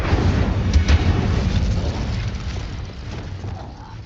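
A loud, rumbling fire-spell blast from Hogwarts Legacy booms out at once, then rolls and crackles for several seconds before slowly fading, with a voice briefly calling out at the start.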